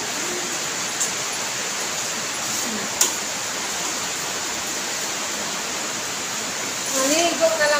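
Heavy rain pours down in a loud, steady hiss that stays even throughout, with a few faint knocks and a voice speaking briefly near the end.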